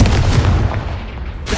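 Confringo explosion spell in the game Hogwarts Legacy, a single loud close booming burst that rumbles and fades within about a second, followed by a brief second thump.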